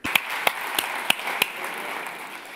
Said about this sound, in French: Il ne me reste plus qu'à remercier nos excellents orateurs. Applaudissons-les.